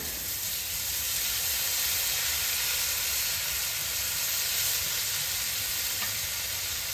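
Onion-garlic paste with coriander powder and cumin paste frying in hot oil, giving a loud, steady, close sizzle that hisses without a break for the whole stretch, with no voices.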